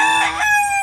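A fighting rooster raised for cockfighting crows once, loud and close, a single strained call lasting under a second with no other sounds around it.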